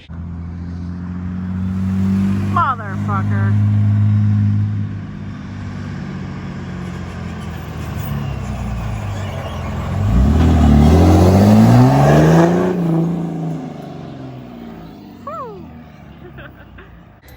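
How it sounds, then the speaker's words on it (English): A car drives in on a cold day, its engine idling at a low rumble before revving up loudly and climbing in pitch as it approaches close by, then settling down. People talk briefly over it. "I'm just gonna like record him driving in"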